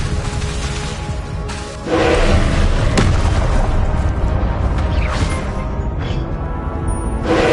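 Confringo explosion spell in Hogwarts Legacy, a heavy booming blast with a low rumbling thud, followed by sustained roaring impact noise and lighter whooshing bursts, no voices.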